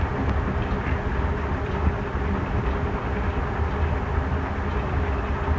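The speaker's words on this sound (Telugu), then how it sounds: "ఈ ట్రైన్ వచ్చి క్లీన్ చేయడానికి మధ్యలో ట్రాక్స్ మధ్యలో ఏమన్నా చెత్త అంతా ఇది క్లీన్ చేసేస్తుంది" A track-cleaning train, an engine pulling two coaches, rolls past at a railway station with a steady loud rumble and low mechanical drone, continuous and close, no voices.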